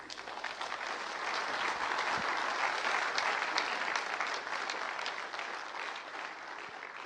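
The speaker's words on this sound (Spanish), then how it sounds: "¿Podemos darle un aplauso al Señor?" A church congregation applauds together, a sustained even roar of many hands clapping that stays full and steady throughout, heard from a little distance.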